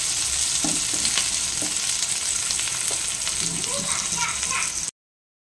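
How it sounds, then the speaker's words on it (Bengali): Mixed vegetables for hakka noodles sizzle and crackle in a pan while being stirred, with a dense close-up frying hiss and scattered scraping stir noises. The sound cuts off abruptly near the end. "দিয়ে সবজিগুলো ভালো করে ভেজে নিই"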